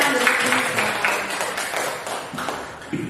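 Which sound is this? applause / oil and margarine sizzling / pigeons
applause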